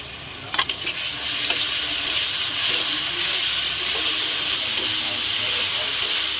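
Sizzling and stirring of whole spices, onion and ginger-garlic-green chilli paste being sautéed in hot oil, a steady loud hiss with scraping clicks near the start, for a Bengali fish-head khichuri.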